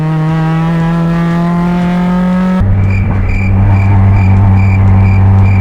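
A Mazda MX-5 Miata accelerates hard out of a slow track corner, first held in 3rd gear with a loud, steady engine drone, then cut abruptly to 5th gear where a lower, labored note pulls slowly, close and alone without talk.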